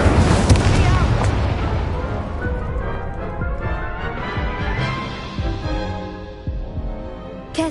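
The Incendio fire spell is cast in Hogwarts Legacy, a burst of booming, crackling blasts that starts loud and fades into scattered impacts, with voices speaking over the noise.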